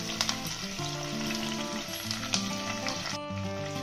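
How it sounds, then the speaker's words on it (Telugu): Curry leaves and chopped tomatoes fry in hot oil in a pan for pepper rasam, a steady close sizzle with occasional stirring scrapes and small pops, no voice. "ఇవన్నీ బాగా ఫ్రై చేసుకోవాలి."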